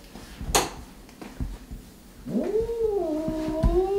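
A cat yowls in a long, wavering, rising-and-falling cry, preceded by a short sharp hiss and a few soft thumps, close and fairly loud.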